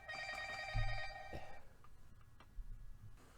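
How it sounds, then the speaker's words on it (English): A phone rings with a short burst of steady, bright electronic tones, close and fairly quiet, then gives way to faint room noise. "my phone does not ring that much, I swear"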